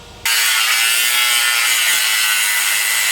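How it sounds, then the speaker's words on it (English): Grinder with a cutoff wheel slicing through a steel suspension bracket on a Jeep JK, a sudden loud sustained hiss-scream that starts abruptly and runs steadily close to the mic. "So we're going to cut this with a grinder."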